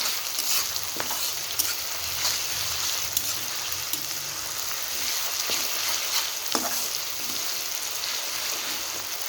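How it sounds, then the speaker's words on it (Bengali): Ginger-garlic paste, green chillies and spices fry in a pan with a continuous close sizzle and crackle, broken by occasional scraping stirs and utensil taps; nobody speaks. "আদা রসুনের পেস্ট দিয়ে দেব। ভেজে নেব মশলাটা।"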